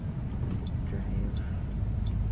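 A car pulls away and drives off, its low engine and road rumble steady and close throughout the short stretch, with a few faint ticking sounds above it.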